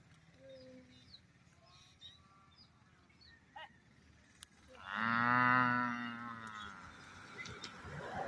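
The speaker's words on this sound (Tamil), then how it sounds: "நம்ம மாடு கத்துற மாதிரி சிண்டுவும் கத்தி காமிக்கிறாரு." A cow moos once, long and loud, standing out clearly against a quiet rural background with faint bird calls and scattered small noises.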